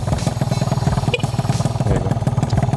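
Yamaha Alfa II R underbone motorcycle engine idling loudly up close, a steady rapid pulsing putter with light mechanical clatter.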